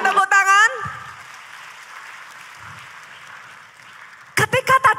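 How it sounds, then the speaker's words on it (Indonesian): Audience applause at a church talk on family support, a steady, dense spread of clapping lasting about four seconds, framed by brief bursts of speech before and after. "boleh kita berikan tepuk tangan?"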